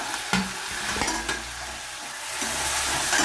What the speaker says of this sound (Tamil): வெங்காயம் நல்லா பொரிஞ்சிட்டுங்க கோல்டன் கலருக்கு தக்காளி போடுங்க